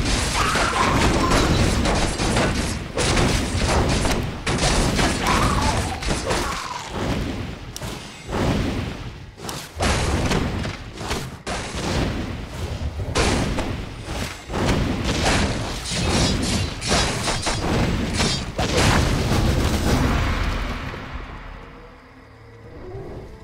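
Sustained battle in the fantasy strategy game Warcraft III Reforged: mortar blasts and rifle volleys rattle and boom almost nonstop, loud and dense, before fading away at the end.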